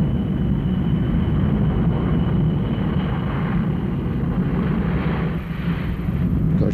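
Boeing 707 jet airliner engines roaring continuously, a loud, dense, steady rumble that stays constant throughout with no talking.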